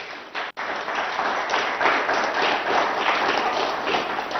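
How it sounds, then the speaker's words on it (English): Audience applause for the candidates at a 2021 presidential debate, a dense, steady wash of clapping from a large crowd, loud and sustained throughout with a brief gap near the start. "A big round of applause for them."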